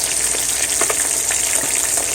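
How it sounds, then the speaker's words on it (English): Steady, loud sizzling of snapper frying in hot oil in a pot, a dense crackle with small pops throughout and no talking. "we're going to lay our fish in a hot pot, and we start the frying process"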